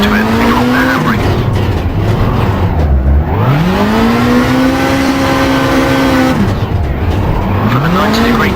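A rally car in the Richard Burns Rally video game does handbrake turns: the engine revs and falls in two sweeping cycles, with loud tyre skidding and squeal as the car slides through each hairpin, close and prominent.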